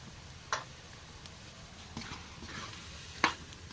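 Kandingga simmers as coconut milk renders into oil in a pot, a faint low bubbling hiss broken by a few sharp ticks and pops.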